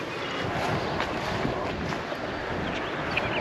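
Wind blows steadily over open water on a bluegill fishing trip, a continuous broadband rush with microphone buffeting, close and fairly loud, with no talking.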